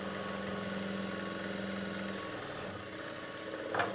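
Sewing machine running steadily while stitching an invisible zip, a continuous mechanical hum with a droning motor tone, close and fairly even, shifting slightly near the end.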